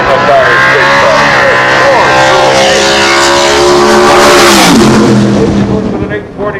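A race car does a smoky tire-spinning burnout at a drag-racing event, a loud, sustained roar of engine and screeching rubber close by that fades at the end, with an announcer talking over it.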